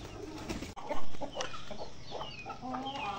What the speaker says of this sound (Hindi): ये देखें इधर मुर्गियाँ